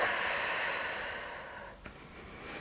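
A single long exhale during a posture exercise for rounded shoulders: a soft, airy breath out that slowly fades, close and fairly quiet, with a faint brief sniff near the end.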